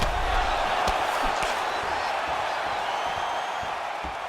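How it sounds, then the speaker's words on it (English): An arena crowd at a UFC 267 fight gives off a sustained, dense roar with a few sharper swells as strikes land, loud and constant throughout. "you hear the crowd react every time they come together"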